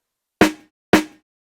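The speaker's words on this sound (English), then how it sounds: "Next up is the snare and it sounds like this" Two crisp snare drum samples struck about half a second apart, each a bright, snappy crack with a short tail, heard on their own.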